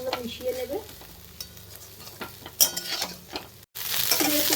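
Chire pulao with paneer being stirred in a frying pan, a close clatter of spatula scrapes and soft sizzling with a brief dropout near the end, then louder stirring resumes.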